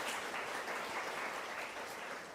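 A church congregation at a Korean-language Sunday service breaks into a short burst of dense, steady clapping that fades slightly at the end.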